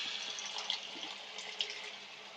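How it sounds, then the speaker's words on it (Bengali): Pre-heated water pours steadily into cooked spice paste in a pan, a continuous close gushing splash with two small bumps; there is no speech. "এরপর এর মধ্যে আমরা দিয়ে দেবো আগে থেকে গরম করে রাখা জল"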